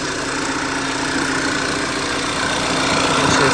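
A 2013 VW Tiguan engine idling cold, a steady, even mechanical hum and whir heard up close without interruption, no voices over it.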